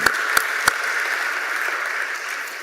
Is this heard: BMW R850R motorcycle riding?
no